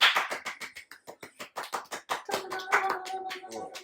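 A burst of hand clapping, quick and uneven, with a few voices chattering and calling out over the later claps.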